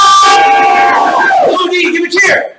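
A live game show audience cheers loudly for a contestant, a dense crowd roar with yells and whoops that holds steady, then briefly dips and surges again near the end.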